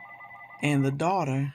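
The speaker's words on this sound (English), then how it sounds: "excuse the phone in the background, that's my house phone." A house phone rings in the background during the first half, a steady electronic trill, before a voice begins speaking over it and carries on.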